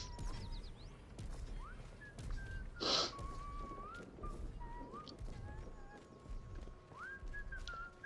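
A character in the video game Atomfall whistles a wandering tune in short, clear phrases, moderately loud against background ambience, with a sharp hiss or gasp near the middle.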